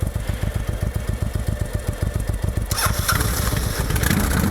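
Motorcycle exhaust close by, first a steady rhythmic thumping idle, then a louder, rougher blare as the throttle opens near the end, with no voices.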